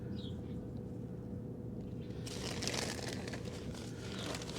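Seeds are rolled around inside a plastic bag for container gardening, giving a steady crinkling and rustling that turns louder and busier partway through, close to the mic with no talking.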